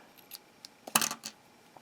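Scissors snip through yarn in a few quiet, short metallic clicks and cuts, the sharpest cluster near the middle, close and isolated in an otherwise quiet room.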